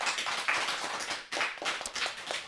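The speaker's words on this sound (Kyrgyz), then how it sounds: "кол чабуулар" Applause fills a Kyrgyz radio cafe studio, a dense, steady patter of many hands clapping close and loud, with a brief dip midway before the clapping swells again.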